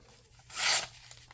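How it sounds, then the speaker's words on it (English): A freshly stropped Spyderco Native in 15V or Kizer Mini Harpoon in 3V slices through paper in one quick, crisp rasping cut lasting under half a second, close and clear against quiet room tone. "So now we'll see how it's cutting paper."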